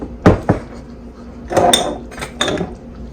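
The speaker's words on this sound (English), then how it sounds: "You want to sit here and stir it" A spoon scrapes and clinks against a pot of Alfredo sauce on the stove, a few sharp metallic knocks followed by short bursts of stirring and scraping, close and fairly quiet, with no voices.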